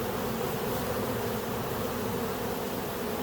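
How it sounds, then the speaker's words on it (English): Dense, steady buzzing of many honeybees working over a honey-filled hive super on a split, a continuous close hum with no voices. "A lot of bees up here working"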